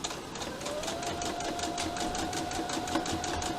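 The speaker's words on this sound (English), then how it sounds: "just top stitch down this seam" A sewing machine top stitches down a seam on a fabric face mask, a steady close whirring hum with a faint rising whine, running continuously with no talking.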